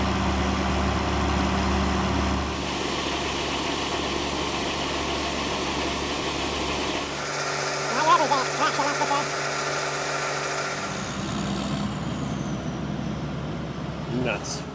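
A farm tractor that won't go into gear, hauling a load during barley cleanup, runs with a steady, loud low-pitched engine drone whose tone shifts partway through and again near the end.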